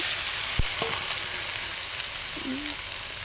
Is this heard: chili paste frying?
yes